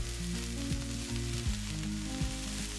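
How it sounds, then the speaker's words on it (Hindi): Boiled noodles with spring onion whites fry hard over high flame for street-style veg chowmein, a loud constant sizzle broken by a few sliding tosses in the wok. "हाई फ्लेम पर इनको 1 मिनट के लिए अच्छे से टॉस करते हुए पका लेंगे।"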